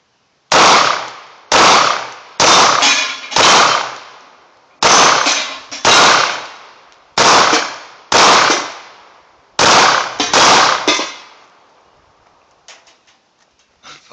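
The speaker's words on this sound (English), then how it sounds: "I really do enjoy shooting the high point." Ten sharp pistol shots from a Hi-Point handgun (C9 or CF380), fired outdoors at a steady, unhurried pace, each loud crack trailing a brief echo, with faint clicks and handling noise after the last round.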